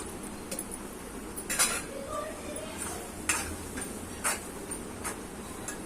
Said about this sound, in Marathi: गॅस बारीक करताना चांगलं परतत परतत परतून घ्यायचं